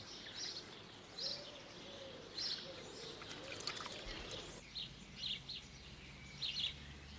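Faint, short chirps repeat every second or so against a low steady background hum, thin and somewhat distant.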